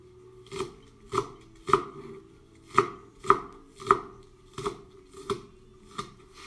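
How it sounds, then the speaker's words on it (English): A knife chops onions on a board for a pasta sauce, about ten crisp, evenly spaced strikes sounding close and distinct against a quiet background. "I cut them all because I like onions."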